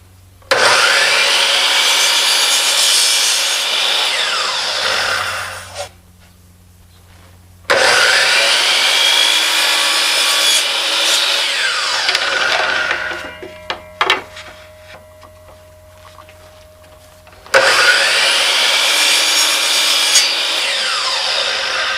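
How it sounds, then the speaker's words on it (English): Wood is hand-sawn for a picture frame with basic tools, in three long bursts of rapid rasping strokes separated by short pauses, loud and close with no talk. "Went ahead and cut up the remaining piece to make another frame."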